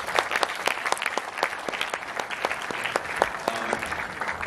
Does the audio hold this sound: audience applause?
yes